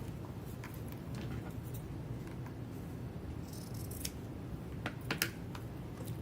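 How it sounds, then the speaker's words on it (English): Scissors trim a piece of chalk-art craft material at an angle, giving faint, scattered snips over a low steady background hum, close but quiet. "I'm just going to trim this at an angle."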